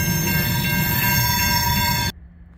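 CN freight train rolling past close by, a loud steady rumble with metallic wheel squeal and ringing tones, cutting off abruptly as the last car clears.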